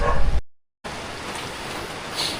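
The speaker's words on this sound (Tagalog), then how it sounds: "siguro okay na tong gato kalakas na ulan" Heavy rain falls outdoors as a dense, steady hiss of drops, loud and close, starting after a brief cut to silence near the start and running on evenly with no talking.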